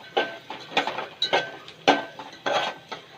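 Repeated close clinks and scrapes of a spoon against a pan while dal with turmeric is stirred, about seven irregular strokes with no talking.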